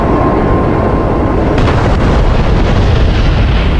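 Bomb blast in the DCS World flight simulator heard as a loud, continuous rumbling roar filling the whole stretch, with a sharper surge partway through and no talk.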